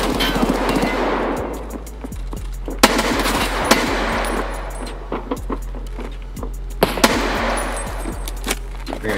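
Sharp gunshots in the tactical shooter Escape From Tarkov, single reports and short bursts spaced across the clip, some loud and close, others more distant, over a low steady hum.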